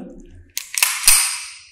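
The hammer of a Taurus PT92 pistol is cocked, giving a few sharp close metallic clicks followed by a brief mechanical ring, heard alone.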